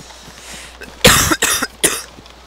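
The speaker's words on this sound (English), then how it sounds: "Gosh, I keep coughing." A person coughs several times in a close, loud burst of three harsh coughs, heard in the dark outdoor setting of the DayZ survival game, with no talk during the coughing.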